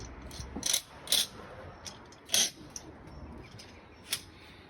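Scaffolding flyer being stripped out above a flat roof, with a few sharp metallic clanks and ratcheting clicks spaced apart at moderate distance, alone without talk.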